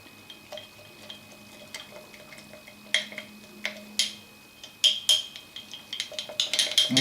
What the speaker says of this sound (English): and then you just mix it up.